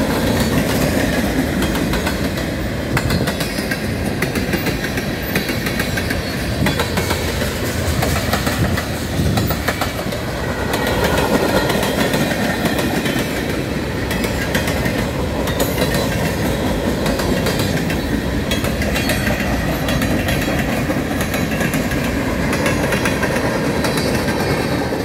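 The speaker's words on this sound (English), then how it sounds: "It's gotta be a long train." A long southbound CN manifest freight train led by ES44DC and C44-9W locomotives rumbles past steadily nearby, wheels clacking rhythmically over the rails with a constant heavy roar and occasional squeal.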